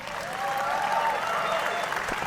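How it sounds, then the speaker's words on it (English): A crowd claps steadily in sustained applause in a video game, loud and dense, with a faint murmur of voices mixed in. "Applause erupts around you."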